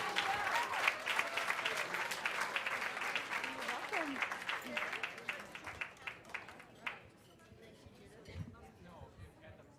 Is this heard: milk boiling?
no